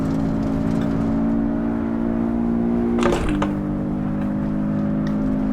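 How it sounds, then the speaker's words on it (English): Turbocharged engine of a Porsche 718 Cayman S in Assetto Corsa on the Nordschleife, a steady droning engine tone held at even revs with a brief burst of noise midway. "The turbocharged engine on this it responds really well."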